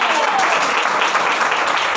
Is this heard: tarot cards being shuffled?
no